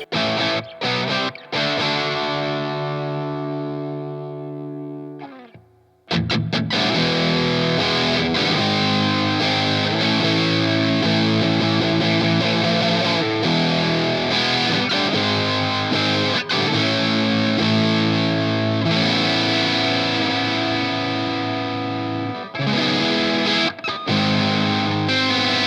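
Bloom distortion pedal set to tight mode: a loud distorted electric guitar plays chugging chords and riffs, with a brief pause around five seconds, then continues steadily.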